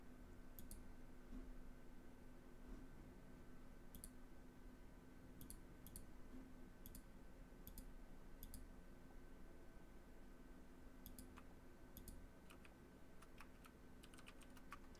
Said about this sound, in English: Oh, I hear you typing.